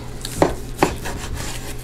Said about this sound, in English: I'm going to cut my meat into quarters, easily, in half,